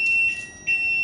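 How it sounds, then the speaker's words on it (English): FF Lite electric scooter's security alarm sounds a loud, shrill electronic beeping in two steady high-pitched bursts with a brief dip between them, close by and alone. "it puts the alarms on, and then it also makes it so that I can't move the scooter at all."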